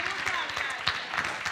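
Festival audience applause in an open-air show, a steady dense patter of clapping with a few louder bursts, filling the whole moment.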